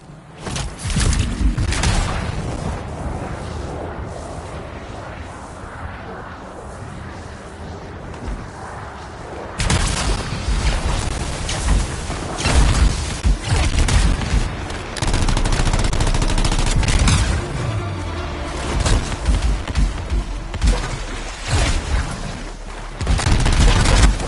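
Gunfire and explosions roar as turrets and sentinels fight in a PS4 video game: dense, loud bursts of rapid shots and booms, with a quieter stretch early before the barrage resumes heavily.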